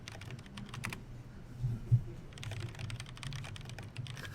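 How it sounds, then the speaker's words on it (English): Fingers type rapidly on a computer keyboard, producing dense clusters of close, crisp key clicks with a short pause partway through and a low hum underneath. "I'm just typing out in chat."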